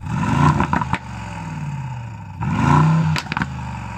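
A Mercedes-AMG GLE 63 engine barks through two sharp revs close by, each rising and falling quickly with crackles on the overrun, separated by a lower idle rumble.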